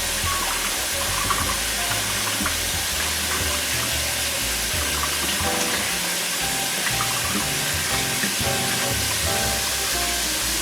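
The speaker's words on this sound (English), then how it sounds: "Wash the apples." Running tap water pours steadily over apples being washed in a strainer in a home kitchen, a continuous close splashing hiss with no talking.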